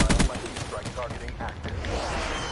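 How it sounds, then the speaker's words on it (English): Rapid gunfire from an MX Garand rifle in a first-person shooter video game, dense overlapping shots running continuously through the clip with busy game noise underneath. "That's as fast as the MX Garand can shoot."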